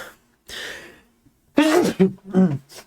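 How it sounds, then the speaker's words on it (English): A single sneeze bursts out after a brief breathy sound, followed by a few short vocal noises close to the microphone. "Try not to sneeze."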